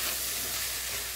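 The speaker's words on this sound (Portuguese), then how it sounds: "agora é só deixar fritar um pouco aqui, refogar" Rice with green corn frying in a pan on the stove, a steady close sizzle that continues evenly throughout with no talking.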